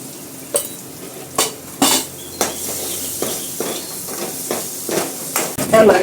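Finely chopped onion frying in oil with mustard seeds and curry leaves, stirred around the pan with a utensil, making repeated scraping clinks over a steady low sizzle, close and moderately loud.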